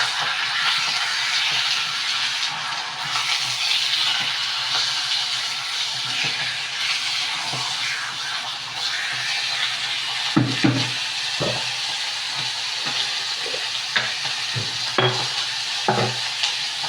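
Chicken liver sizzles and hisses steadily in a hot pan for adobo, close and loud, with scattered scrapes and knocks of stirring throughout.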